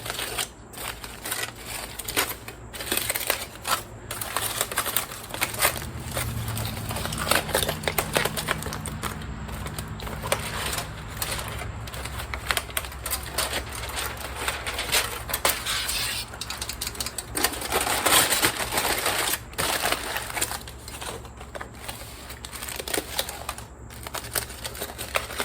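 Foil or butcher paper crinkles and rustles continuously up close as a smoked chuck roast from a Weber kettle grill is unwrapped, a dense crackling texture that persists throughout.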